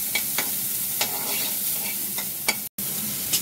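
Chopped capsicum sizzles in a pan as a spoon stirs it in regular scraping strokes, a steady frying hiss with a brief cut near the end.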